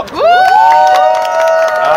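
A crowd at a running event cheers and shouts loudly for a couple of seconds, with high voices whooping together and sustained, excited yells.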